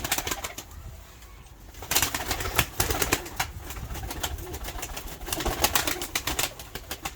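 Pigeons in a Kars coop give soft coos and rustling against sharp wing claps and flapping bursts, the busy activity rising after a quiet opening stretch.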